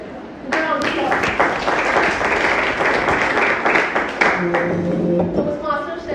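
Audience at a Toastmasters club meeting claps in a lively, sustained burst of several seconds, close and fairly loud, with a voice speaking briefly near the end as the clapping thins out.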